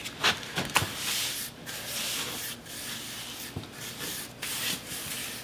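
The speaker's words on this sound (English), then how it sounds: "this is really easy to trowel out." A trowel spreads loosely mixed mortar across a shower pan base in short, close scraping and rubbing strokes with a gritty texture and small pauses between passes.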